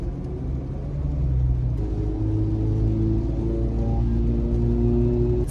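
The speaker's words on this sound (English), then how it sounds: "It's always those cars with the muffler." A car with a loud aftermarket muffler rumbles and revs nearby, a deep steady engine drone whose pitch steps up partway through and holds, with no talking.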